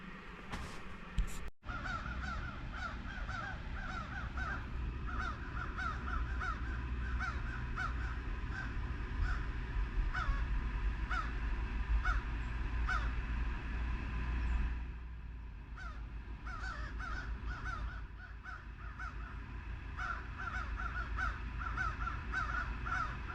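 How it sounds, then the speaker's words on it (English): Crows caw repeatedly in the cold morning outside a truck-bed tent camp, a flock calling in quick overlapping bursts at moderate distance over a steady low background hum. "The crows seem to think it's time to be awake"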